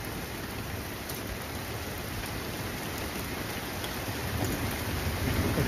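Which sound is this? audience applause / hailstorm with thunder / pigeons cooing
hailstorm with thunder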